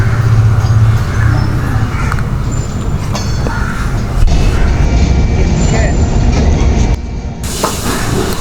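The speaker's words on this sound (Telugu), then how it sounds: "చాలా పెద్ద గూడ్స్ ట్రైన్ లాగా ఉందండి" Large goods train rolling through a station without stopping, a loud steady rumble with rattling wagons and hiss that fills the whole stretch, while someone talks faintly beneath it.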